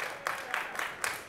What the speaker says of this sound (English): Can I have an applause for that?